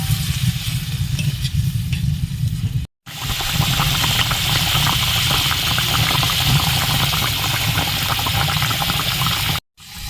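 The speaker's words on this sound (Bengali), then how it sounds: "যাতে মাছটা ভালো করে সিদ্ধ হয়" Hilsa fish in mustard sauce simmers in a pan, giving a steady bubbling, sizzling hiss that carries on close and even, with two brief cuts to silence and no talking.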